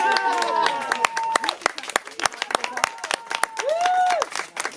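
Scattered to steady clapping from the crowd at a slam poetry night in Vence, moderately loud, with people speaking on top of the applause.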